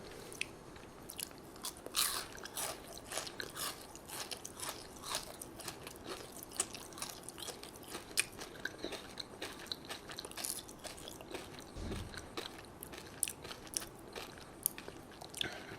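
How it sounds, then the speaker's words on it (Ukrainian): Crunchy milk chocolate with nut brittle, eaten without the insect pieces, is bitten and chewed close up in a steady run of crisp crunching and cracking bites, with no talking. "Тепер відкладемо хробака і спробуємо грильяжну частину без хробака."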